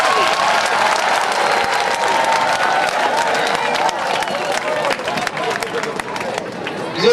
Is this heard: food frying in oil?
no